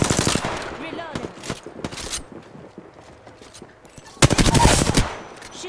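Automatic gunfire in the Apex Legends video game, with rapid bursts at the start, another around two seconds and a dense loud volley near the end, mixed with quieter game sounds and voices in between.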